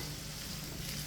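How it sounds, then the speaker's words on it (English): Vegetables sauté in a pot for a one-pot chicken dish, giving a steady, dense sizzle throughout with no talking. "we're going to allow that to saute for a few minutes"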